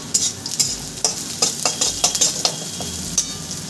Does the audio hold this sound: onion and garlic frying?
yes